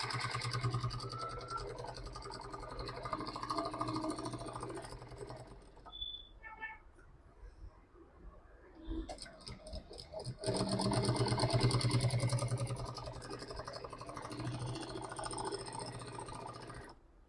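A sewing machine runs in bursts while double-stitching a crossbody bag, with a loud steady mechanical whir that pauses briefly midway and then resumes, close by and under light background noise.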